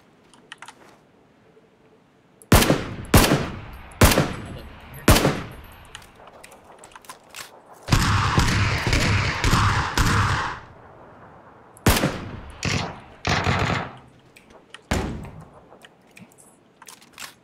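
Gunshots in PUBG, fired as a series of sharp, loud single cracks with pauses between them, then a dense burst of rapid automatic fire in the middle, followed by several more spaced shots.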